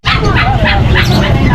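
A Shih Tzu at a roadside street market barks and yips several times in quick succession, close and loud, over busy crowd chatter and traffic noise.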